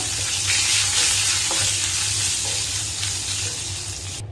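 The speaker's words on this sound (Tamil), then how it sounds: "நம்ம இப்போ தாளிச்சதை வந்து குழம்புல சேர்த்துடலாம்" Curry leaves and asafoetida tempered in hot oil are poured into an ash gourd buttermilk curry, giving a loud, steady crackling sizzle that runs throughout and cuts off abruptly at the end.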